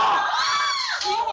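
A woman shrieks during a street brawl between neighbours, one loud, sustained, close scream that wavers in pitch and then cuts off abruptly.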